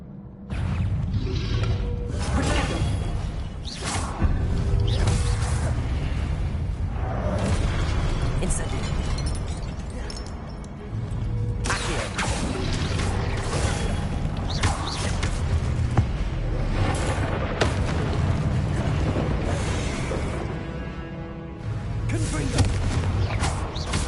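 Spell-casting in the Hogwarts Legacy video game, with Incendio and Confringo blasts landing as a dense run of loud booming bursts and crackling impacts, one after another, over a continuous roar of combat with a voice calling out spells.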